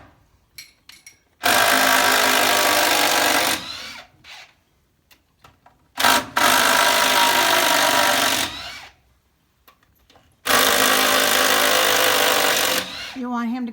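A power drill drives screws into old barn wood during a barn-raising job, with three long, loud whirring bursts separated by pauses with knocks and clatter, while people talk between runs.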